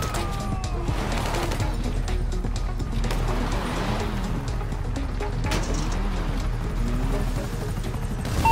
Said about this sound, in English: You hear that? They got another chopper coming in?